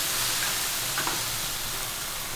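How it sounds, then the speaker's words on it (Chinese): Vegetables stir-frying in a hot wok with vinegar and chili, a loud continuous sizzle and hiss with a brief clatter of the spatula midway. "酸辣炒菜"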